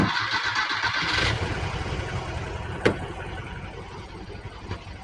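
A 1968 Volkswagen Type 3 with fuel injection cranks and catches, a loud close churning burst settling into a steady rough mechanical drone, with a sharp clack near the end.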